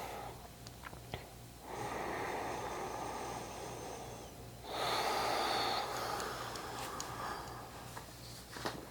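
Slow ujjayi breathing during a yoga flow, two long audible breaths drawn in and out through the throat, close and fairly soft, with no talking over them.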